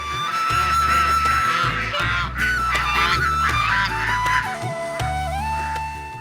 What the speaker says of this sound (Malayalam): പാടശേഖരത്തിലൂടെ നീന്തി നടക്കുന്ന താറാവുകൾ മനോഹരമായ കാഴ്ചയാണ് സമ്മാനിക്കുന്നത്